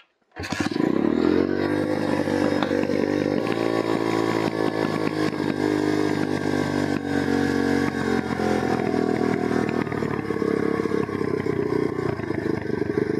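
A motorcycle engine starts and idles loudly and roughly while its carburetor is being adjusted, a steady close mechanical drone running unbroken after the start.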